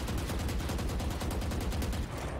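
Rapid automatic fire from the Vandal rifle in Valorant, a dense, steady stream of loud shots with a regular rhythm lasting about two seconds, then a brief tail-off.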